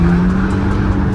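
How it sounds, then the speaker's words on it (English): Audi TT tires squealing as they spin, a loud close continuous screech over engine drone in one brief burst. "the tracking is so bad, it's just squealing"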